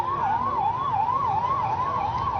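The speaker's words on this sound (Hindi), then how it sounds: "इतने सारे एम्बुलेंस जाना संकेत अच्छा नहीं है।" Ambulance sirens wail in a steady rising-and-falling cycle, loud and close, over road noise during an outdoor election rally, with no talk over them.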